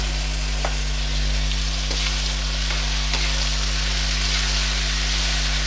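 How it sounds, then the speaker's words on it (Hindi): Taro (arbi) pieces frying with crushed chili, a loud continuous sizzle with occasional crackles and pops, close and steady throughout with no talking. "इसको सबसे पहले बहुत अच्छी तरह फ्राई करना है।"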